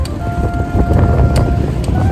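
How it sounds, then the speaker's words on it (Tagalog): Strong wind buffets the microphone in heavy low rumbling gusts on a bike ride in Japan, loud and close, with faint background hum. "Malakas yung hangin, no?"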